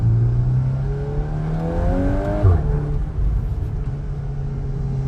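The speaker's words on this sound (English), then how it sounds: "So I'm currently driving in the full-blown race mode, and I'm gonna go into manual and the whole thing just wakes up." A 2024 VW Golf 8 R Performance Pack with a 320 PS engine, DSG gearbox and standard exhaust, driven in race mode, rises in pitch through a gear, dips briefly at a shift, then keeps pulling as a steady cabin rumble.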